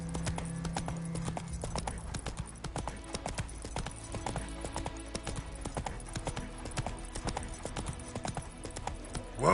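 Roach, the horse in The Witcher 3, gallops with quick, steady hoof clip-clops that run close and continuous, and a short louder burst comes at the end.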